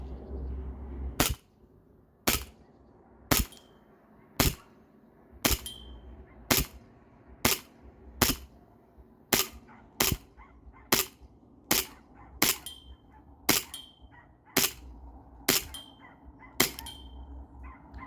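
A Sig Sauer Emperor Scorpion CO2 BB pistol fitted with a mock suppressor fires about sixteen sharp, evenly spaced shots, roughly one per second, each a crisp pop with a quick decay, against quiet outdoor background.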